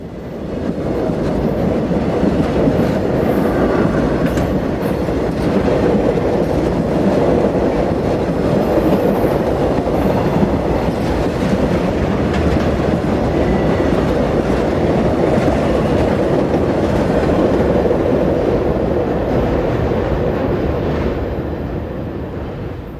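A bi-level passenger train rumbles steadily past at close range while street running through Ashland, a continuous loud roll with faint rhythmic wheel clatter, easing off only at the very end.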